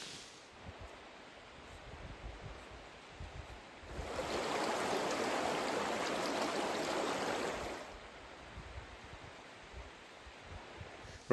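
A river in the Scottish Highlands flows nearby as a steady wash of water, swelling to a louder, fuller rush for a few seconds midway before easing back to a soft background murmur.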